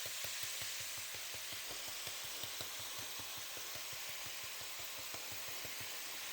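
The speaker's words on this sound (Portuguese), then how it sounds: "enquanto a carne está ali fritando, terminando de refogar" Ground meat frying in a pan with cumin and sweet paprika for an empanada filling, giving a soft, steady sizzle with quiet crackles and faint stirring.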